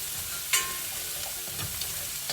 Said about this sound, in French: gentiment ça commence à rissoler